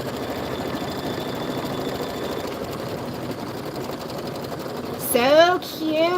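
An embroidery machine stitches a quilting-stitch border on a Kimberbell bunny bench pillow, a loud, fast, even mechanical chatter running steadily, with a brief bright whistle-like burst near the end.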